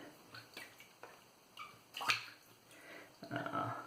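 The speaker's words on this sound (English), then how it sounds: "I'm gonna clean off the tub really quick." A shaving soap tub rinsed under water, with soft intermittent splashes and a few clicks and taps of the tub, close and quiet, no speech.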